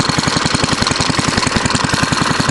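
A Fairbanks Morse Z/D stationary engine fitted with an uncommon muffler runs steadily, giving a loud, close, even chuffing beat of rapid regular firing pulses with no talk over it.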